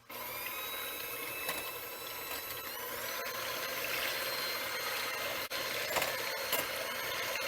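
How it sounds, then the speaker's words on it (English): A kitchen mixer whirs steadily as it blends egg whites in a bowl until frothy for a cherry meringue pie, a continuous close motor drone with no talking over it. "we're going to blend this just till it's a little bit frothy"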